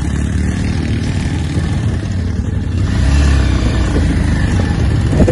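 A scooter engine revs hard on a short ride, a steady, loud, gritty drone that swells a little around the middle and holds to the end, with no voices.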